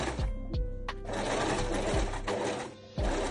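A sewing machine runs steadily, stitching bias binding onto the armhole of a one-shoulder scarf dress with a 0.5 cm seam, its motor whirring continuously with a few brief pauses and thumps, no talking.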